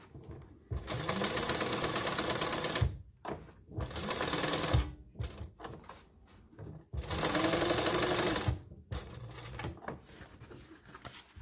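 A sewing machine stitches a back band in several bursts of rapid mechanical chatter, each lasting a second or two, separated by short pauses and soft handling clicks.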